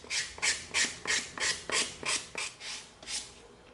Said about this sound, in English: let's come in with our 220 sanding stick